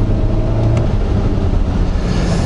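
Seat Tarraco diesel engine humming while driving, a continuous low rumble from the cabin with steady road noise, no voices over it.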